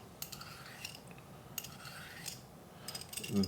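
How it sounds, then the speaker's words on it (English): A vegetable peeler scrapes the skin off a cucumber in a few quick, soft rasping strokes, faint and close, with brief pauses between passes and no talking. "So we're just going to take our peeler, skin it all around."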